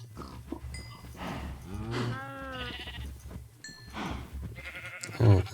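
Cows in a video game moo and low in several drawn-out calls, overlapping with game noise at moderate loudness.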